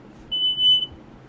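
One clean electronic beep for a click in a counter app, a short steady high tone of about half a second over a faint background hiss.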